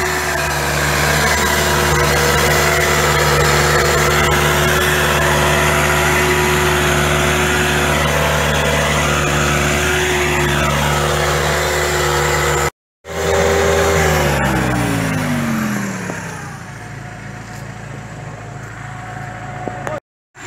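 A loud, close tractor engine drones steadily with a strained, labouring tone while deep subsoiling very hard vineyard ground, cuts out briefly, then returns and winds down in pitch.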